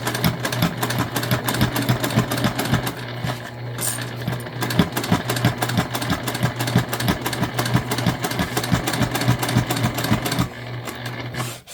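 A sewing machine stitches a fabric gift bag in a long steady run of rapid mechanical clatter, loud and close, before stopping abruptly near the end.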